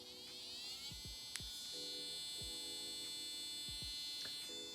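An inexpensive cordless electric nail file spins up toward 30,000 RPM, making a thin, high-pitched whine with rising harmonics. The motor sounds faint and close, and small clicks and taps come in over a quiet background.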